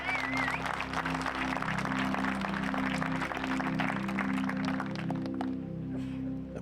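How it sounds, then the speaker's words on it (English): Spectators at a disc golf final clap in a sustained, fairly distant round of applause outdoors, holding steady for several seconds before thinning out at the close. "Clap your hands for Jesse Nieminen."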